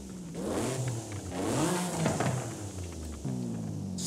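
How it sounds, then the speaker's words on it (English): A stock-exhaust Honda car in Forza Horizon 5 revs and accelerates, its engine note rising and falling in sweeping pitch changes, loud and continuous with a brief dip before climbing again. "So this is the stock exhaust."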